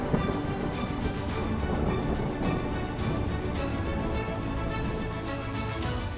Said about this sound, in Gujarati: તાપીના ઉચ્છલ તાલુકામાં ધોધમાર વરસાદ વરસ્યો છે